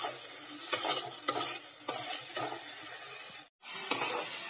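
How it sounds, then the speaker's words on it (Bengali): A spice paste for makhana curry fries in oil, its soft, steady sizzle punctuated by regular stirring scrapes roughly every half second, with a brief break near the end. "আমার মশলাটা কষানো হয়ে যাচ্ছে, এই যে তেল ছাড়তে শুরু করে দিয়েছে মশলা থেকে"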